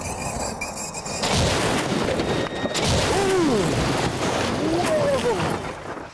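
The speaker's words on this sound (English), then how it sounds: "This will be a 50-mile-an-hour impact, as if the limo had come a cropper on a motorway and hit a bridge support head-on." A stretch limousine slams head-on into a barrier at 50 mph in a crash test, a loud heavy booming impact with crunching and roaring rumble that rolls on for several seconds.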